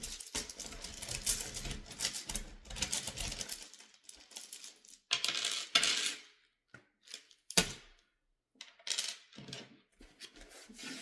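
Scrabble tiles being drawn and shuffled, close, quiet clicking and rattling of small tiles in irregular clusters broken by brief silences.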